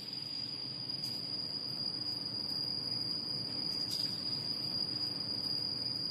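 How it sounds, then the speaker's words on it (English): Crickets chirp steadily in an underground air chamber inside a sea-bridge tower foundation, a continuous high trill held at a fairly even level for the whole stretch, over a low ambient hum, with no voices. "It is surprising that crickets are hiding down here,"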